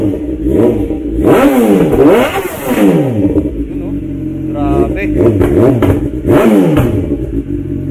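An S1000 motorcycle engine is revved hard during a sound check. Loud, close throttle blips rise and fall in repeated surges, with voices faintly present in the background.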